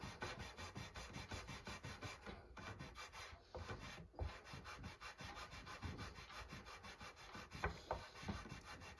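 Steady rubbing and rasping of a polishing pad worked back and forth over the metal frets of a guitar during a string change, continuous and close with small rhythmic surges.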